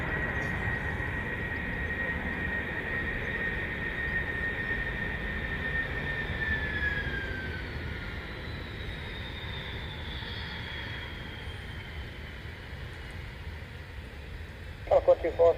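Nike-liveried plane departing Dublin Airport on the far runway, a steady broad engine roar heard from a distance, with faint voices mixed in.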